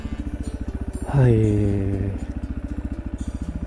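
A new motorcycle idles steadily while being parked at a forest stay spot, its engine pulsing in an even, rapid rhythm close by. A brief voiced greeting rises over the engine midway through.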